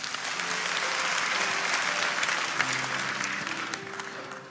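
Church congregation claps during a sermon, a steady, dense wash of applause from a large crowd that holds evenly, then begins to taper off.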